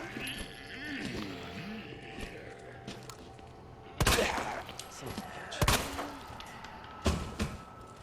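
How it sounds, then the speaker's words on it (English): Gunshots from Resident Evil 2 Remake on PS5, about three loud broadband cracks spaced a couple of seconds apart over a low game ambience, with a voice heard talking in between. "I'll shoot his hat off."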